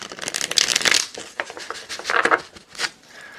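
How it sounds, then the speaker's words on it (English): Tarot cards are shuffled up close in quick riffling bursts with brief pauses between, a crisp papery flutter and snapping. "I'm going to do one more shuffle here before we go on."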